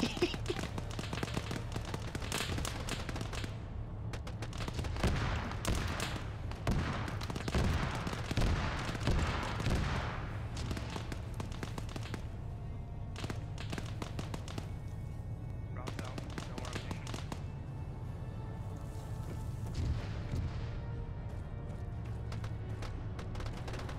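Artillery in a military shooter video game, a dense, relentless barrage of booming shells and rattling gunfire that keeps up at high level throughout, heavy and continuous.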